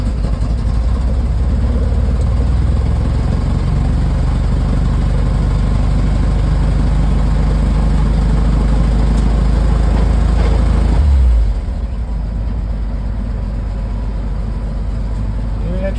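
A 1953 Dodge M37 engine idles steadily at close range with a deep, continuous rumble, then drops to a slightly quieter idle partway through.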